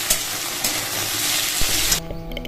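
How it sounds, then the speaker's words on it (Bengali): Pieces of ash gourd fry with ginger-cumin paste and green chili, a dense, steady sizzle close up with a brief stir before the frying sound drops away near the end. "আদা জিরা বাটা দিয়ে দিলাম কাঁচা লঙ্কা সেগুলো একটু ভেজে নেবো"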